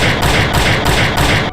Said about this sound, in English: 5 gunshots.